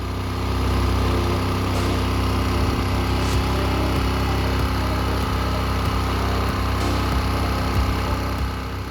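A small engine runs steadily while its carburettor is adjusted, giving a constant, close, droning hum with a few faint ticks over it for the whole stretch, and no one speaks.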